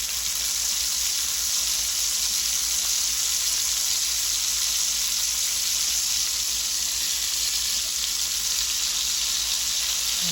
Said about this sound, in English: now I'm going to put my burgers in the pan that had the bacon grease